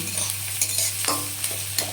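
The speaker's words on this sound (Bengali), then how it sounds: "রসুন কুচোটা একটু ভাজা হতে আমি দিয়ে দিয়েছি পেঁয়াজের টুকরোগুলো" Onion pieces frying with chopped garlic in oil make a close, steady sizzle, with several brief stirring scrapes and a low background hum.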